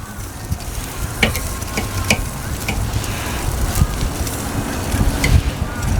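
Chicken wings sizzling on a grill, a steady loud crackle with several sharp clicks and scrapes as the wings are flipped one after another, with no one speaking.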